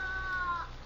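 A cat gives a single drawn-out meow that slides downward in pitch, fairly clear against quiet room tone in a 1954 television sitcom.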